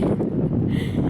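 Wind gusts at a beach buffet the microphone with a loud, continuous low rumble and rushing noise throughout the short moment.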